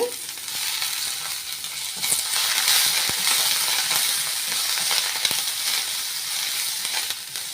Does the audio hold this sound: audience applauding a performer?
no